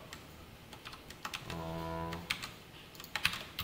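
Keys clatter on a computer keyboard in irregular bursts of close, crisp taps, with a brief steady electronic tone in the middle of the typing.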